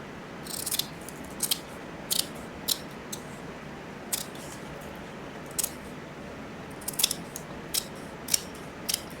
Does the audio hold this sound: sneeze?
no